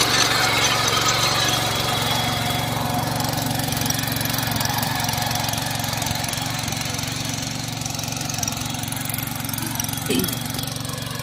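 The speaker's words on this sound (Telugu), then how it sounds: "ఇప్పుడు మీరు చూస్తున్న ఈ బండి 7 HP Kisan craft company 7 HP petrol version బండి అండి" A KisanKraft 7 HP petrol power weeder engine runs steadily throughout, a loud continuous mechanical drone with a low hum and no speech over it.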